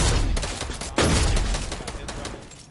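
Gunshots in Fortnite during a duos match: a dense, rapid stream of shots with one strong, loud blast midway, over steady game ambience.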